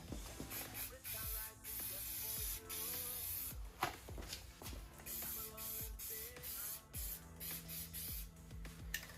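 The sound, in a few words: spray painting tail light part with satin black paint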